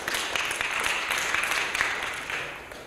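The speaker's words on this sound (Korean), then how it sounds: "다시 한번 박수 부탁드리겠습니다" A thick wash of audience applause at a send-off ceremony for a life and anti-nuclear Silk Road pilgrimage at Seoul Citizens Hall, steady and full for most of the stretch before easing slightly at the end.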